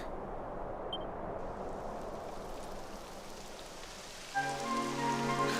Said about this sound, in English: It would have to go and start raining.